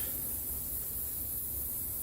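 Engine cleaner is sprayed over a car engine with the engine off, giving a steady, continuous aerosol hiss close to the listener for about two seconds without a break.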